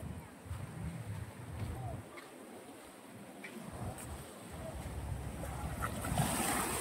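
Ocean waves roll and wash steadily at Diguisit, Baler, strong surf, growing louder toward the end, mixed with wind buffeting the microphone.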